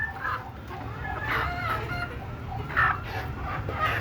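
Desi chickens cluck and chatter close by while being fed on a cleared patch of ground, a busy overlapping flock with brief sharper calls rising now and then.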